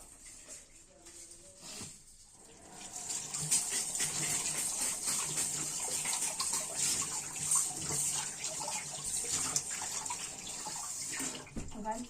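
Tap water running in a kitchen sink while dishes are washed, a steady close gush that starts after a quiet opening and continues with light clatter, someone speaking briefly underneath.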